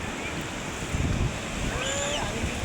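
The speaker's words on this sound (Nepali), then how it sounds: "ल आइरहेछ है समुद्र यसरी आउँछ होइन।" Sea waves surge onto a shore in a steady, broad wash of surf with wind buffeting the microphone and faint voices in the background.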